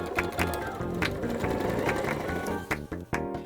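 Sewing machine stitching quilt pieces into a long border, a rapid steady mechanical whirring and clatter running nearly continuously with brief pauses near the end, close and clear.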